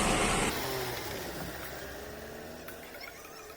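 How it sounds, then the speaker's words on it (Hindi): A car engine idles and revs softly while the vehicle is pulled over and parked beside a temple gate. A louder burst opens it, then a steady low rumble continues at moderate distance, with no talking. "ये साइड में पार्क कर लेता हूँ गाड़ी"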